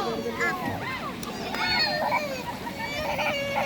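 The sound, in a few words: people bathing and splashing in a river in summer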